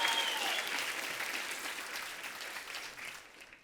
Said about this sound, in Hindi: प्लीज जोरदार तालियां सर के लिए